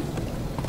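Horses galloping in the Minecraft Story Mode video game, a steady muffled rumble of hoofbeats that runs the whole short moment at moderate loudness, with no talk over it.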